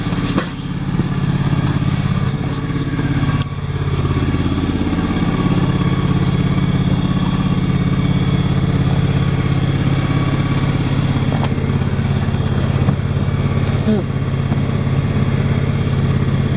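A John Deere X728 lawn tractor engine idles while warming up, a steady, loud mid-pitched running drone that holds evenly throughout with no speech.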